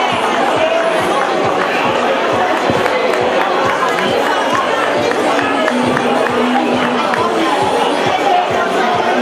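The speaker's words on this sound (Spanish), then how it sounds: "Un fuerte aplauso para las dos." Crowd at an outdoor San Silvestre race awards ceremony in Cadreita, New Year's Eve, with dense, steady applause and cheering throughout, sharp claps rising out of a loud babble of voices.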